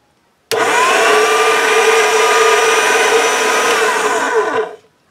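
A motorized conditioning machine runs polymer clay through its rollers: an abrupt start into a loud, steady mechanical whir with a constant tone that holds for about four seconds, then winds down and stops, close by with no talking.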